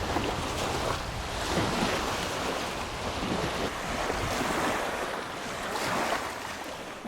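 Waves washing continuously onto a rocky beach of smooth rounded stones on Michigan's Upper Peninsula, a broad steady surf roar mixed with wind rumble on the microphone, close and unbroken.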